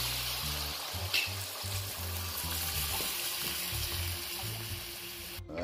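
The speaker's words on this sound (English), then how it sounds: "Add in water." Water pours steadily into a cooking pot during the making of a Jamaican-style brown stew fish. It makes a soft, continuous trickle and splash, fairly quiet, with a few uneven pulses and no talking.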